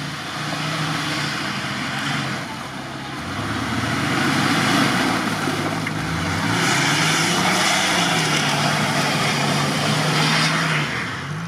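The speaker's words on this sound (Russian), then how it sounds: "Хорошо мотор работает." An off-road vehicle's engine drones loudly and steadily during a swamp off-road drive, its revs rising and falling as it labours along. Nobody talks over it.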